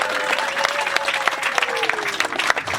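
Wedding guests at a Rwandan wedding break into loud, dense applause, a steady roar of many hands clapping at close range for a few seconds with a faint tonal voice drifting underneath.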